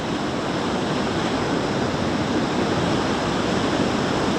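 Rushing water of waterfall rapids, forming a steady, dense, loud roar that continues without a break and masks everything else, with no voices.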